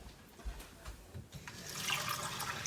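Water is poured from a cup into an Instant Pot holding a turkey, a soft, steady splashing trickle that grows fuller and louder toward the end, with no talk.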